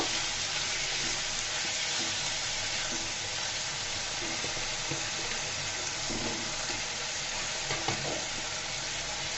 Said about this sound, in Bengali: দিয়ে মুসুরের ডালটা তেলের মধ্যে একটু ভেজে নিব।